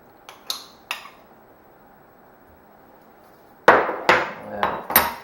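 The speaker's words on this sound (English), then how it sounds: "the potatoes are boiled now and they're soft, so I'm going to mash them" Boiled, softened potatoes being mashed in a pot, giving a few sharp clanking knocks, then a quiet pause before a louder cluster of thuds.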